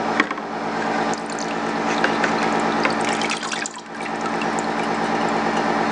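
A carburetor part swished through a zinc plating tank, giving a steady wash of liquid sloshing and trickling over a continuous pump-like hum, with a brief dip in the flow near the end.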